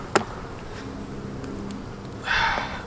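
Faint honeybee buzzing hums around a hive during a spring inspection, with a sharp knock early on and a brief scraping rush of noise near the end.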